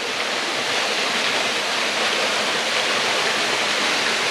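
Waterfall pouring in morning sun beside a small creek, a steady loud wash of rushing, splashing water filling the whole moment without pause.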